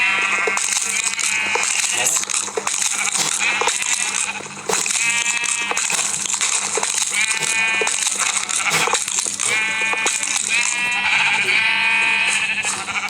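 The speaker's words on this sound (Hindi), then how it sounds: "बकरी आवाज़ इतनी कर रही है ना, क्या बताऊँ।" Goats bleat repeatedly in a Minecraft-style video game, loud harmonic cries recurring every second or two over a steady game backdrop with clicks and rattles, no talk.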